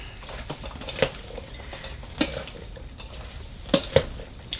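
Carne apache being mixed in a bowl, with soft steady stirring and scraping under a few sharp clinks of a utensil against the dish, close by and without talking.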